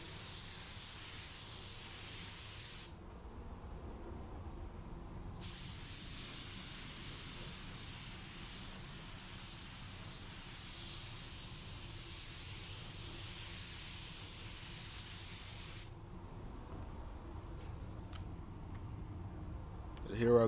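A spray gun mists 490 automotive paint over blend areas in a paint booth, giving two soft, steady hissing bursts, a short one and then a longer one of about ten seconds, separated by brief quiet pauses.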